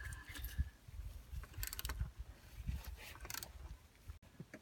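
Bolts on a Subaru Outback/Legacy 3.0 H6 power steering pump are tightened with a ratchet, close metallic clicks and scrapes coming in short irregular bursts, with faint talk underneath.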